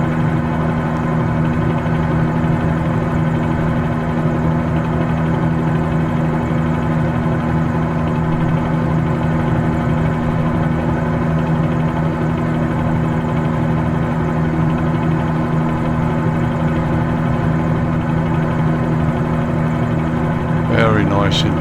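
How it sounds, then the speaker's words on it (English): Helicopter flying in Microsoft Flight Simulator 2020 on a tour around Los Angeles and Venice Beach, a steady loud rotor and turbine drone with strong tonal hum throughout, unbroken for over twenty seconds. "Nice to get out in a helicopter now and again."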